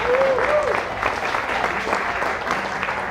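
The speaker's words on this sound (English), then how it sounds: "A quick round of applause for the great music." A crowd claps for live music at a campaign event, a brief dense burst of applause that stays even throughout, with a voice briefly audible near the start.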